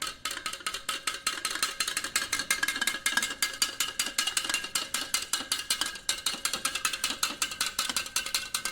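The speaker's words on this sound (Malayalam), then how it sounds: "ഇത് നല്ല വൃത്തിക്ക് ഇളക്കി കൊടുക്കണം." A spoon stirs a honey and ice water drink in a glass, with rapid, steady metallic clinks and ice rattling against the glass, loud and close throughout.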